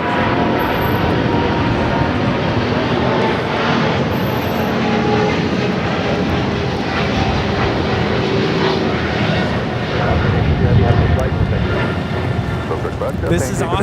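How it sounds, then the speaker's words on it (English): An Austrian Airlines Boeing 777-200ER jet roars through its takeoff roll at Los Angeles airport, a loud, steady broadband engine rumble that holds throughout and swells slightly near the end. "This is Austrian Airlines Flight 82 taking off to Vienna, Austria, the 777-200ER"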